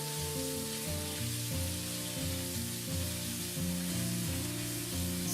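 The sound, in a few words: stir-frying pork with fried garlic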